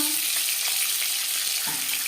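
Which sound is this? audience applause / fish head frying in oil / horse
fish head frying in oil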